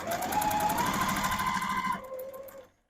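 A Juki sewing machine stitches quilt block pieces in a steady, fast whirring hum for about two seconds, then slows and winds down to silence, close and alone.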